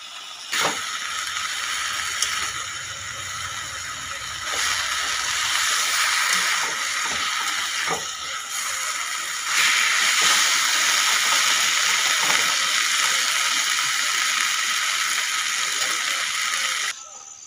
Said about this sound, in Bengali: শাকটাকে ভালোভাবে কষিয়ে নিচ্ছি।